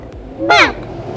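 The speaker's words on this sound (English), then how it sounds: "Crow. Crow." A crow gives one loud, harsh caw, short and close, against a quiet background.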